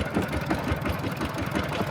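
A farm tractor engine chugs at a steady idle-like rhythm, a low, knocking mid-range putter that stays fairly faint and even, with no talk.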